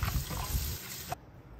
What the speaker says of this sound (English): let's rinse them until the water runs clear